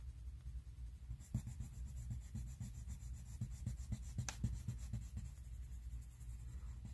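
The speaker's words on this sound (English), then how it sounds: "I'm trying to hold on to this really tiny pencil here and not get wood color on it, but not pressing hard" A tiny colored pencil rubs lightly on paper in a coloring book, soft close scratchy strokes in quick repeated back-and-forth rhythm, faint and alone.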